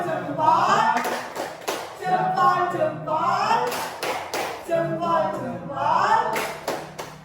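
A group performs the 'tepuk salut' clap routine: sharp clusters of claps in short rhythmic bursts, interleaved with a voice speaking and leading the pattern.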